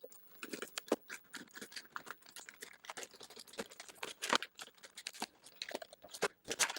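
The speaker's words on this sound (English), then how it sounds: "I like to use tin snips to open these kind of packages. It works well to cut through this stuff." Tin snips cut through stiff plastic clamshell packaging holding a Ryobi ONE+ 18V cordless clamp fan. The close, quiet snips and crackles come irregularly and in quick clusters, one after another, with no talk.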